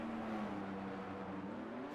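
F1 race cars running wheel to wheel in the F1 23 game, a continuous whining engine drone with a pitch that dips and climbs again, fairly quiet and steady throughout.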